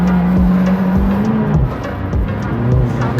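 A front-wheel-drive rally car lands off a jump into a corner with the throttle held down, its engine note loud and close, droning steadily then dipping and surging through quick rev changes.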